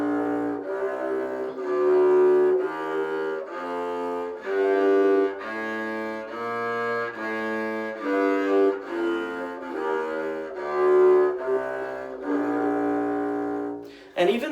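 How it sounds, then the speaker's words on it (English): A double bass is bowed in a slow series of long, sustained notes, each swelling smoothly into the next, rich and resonant with no talking over it. "So the bowing on the bass is going to sound kind of like this."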